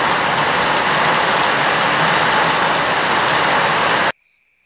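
Heavy rain pours in a loud, dense, steady roar close by for about four seconds, then cuts off abruptly to near silence.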